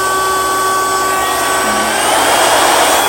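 An Ionvac Power Max portable vacuum cleaner runs close by with a loud, steady high-pitched motor whine and rushing airflow, unbroken throughout.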